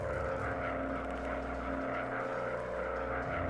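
A WW1 fighter plane engine in a VR flight game drones steadily at full throttle, a loud, continuous propeller roar with a constant pitch and no pauses.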